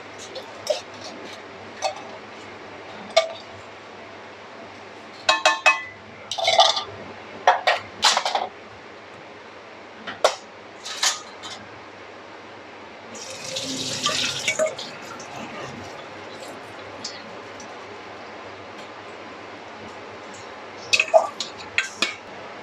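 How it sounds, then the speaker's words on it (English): Sweet corn being rinsed in a kitchen sink: a steady running-tap wash around the middle, with scattered clinks of dishes and utensils before and after against a low background hum. "now we're going to clean and rinse the sweet corn"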